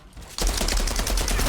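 Assault rifle fire in the game Outriders starts after a brief lull, a loud rapid automatic stream of evenly spaced shots continuing steadily to the end.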